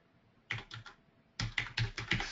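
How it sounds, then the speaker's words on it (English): Keystrokes on a computer keyboard during a software demo of the Trade Ideas stock-trading platform: a short burst of three or four taps, a pause, then a longer run of close, crisp clicks. "we're going to type in"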